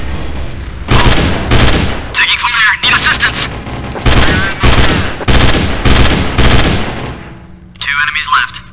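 Rapid bursts of gunfire from the game Counter-Strike: Source, loud and close, coming in repeated volleys with short gaps, while a voice calls out over the shooting.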